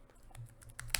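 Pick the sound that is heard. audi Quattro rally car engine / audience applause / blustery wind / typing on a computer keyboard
typing on a computer keyboard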